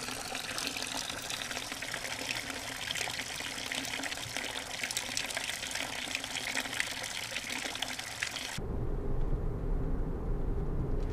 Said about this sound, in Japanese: 水の音、 音があるのに静かさを感じるのはなぜでしょうか